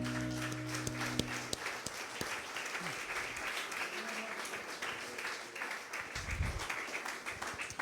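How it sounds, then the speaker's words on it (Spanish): A church congregation breaks into sustained applause for Jesus Christ at a Sunday-morning service, dense clapping filling the room steadily from start to finish with a brief musical tone fading early on. "Un aplauso al Señor Jesucristo."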